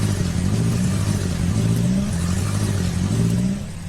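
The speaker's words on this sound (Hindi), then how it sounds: "माया ने एक्सीलरेटर पर पूरा जोर मारा" A car engine revs hard as the accelerator is floored, the vehicle straining and held back after moving barely two metres; a loud, steady low drone with rising pitch sweeps, easing off slightly at the end.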